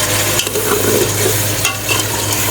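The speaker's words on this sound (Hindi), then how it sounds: "अब इसका भी जब तक उतनी देर भूनना है जितनी देर तक ये घी ना निकल आए" Tomato paste from six or seven tomatoes frying in ghee for beef karahi, a loud, dense, continuous sizzle with steady stirring close up.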